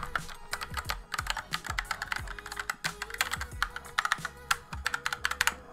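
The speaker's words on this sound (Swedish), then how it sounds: "Aldrig ägt ett så här tungt tangentbord innan kan jag säga." Someone types on a heavy SteelSeries keyboard, making fast, dense key clicks and clacks in an irregular rhythm. The sound is close and clear, and nothing else plays behind it.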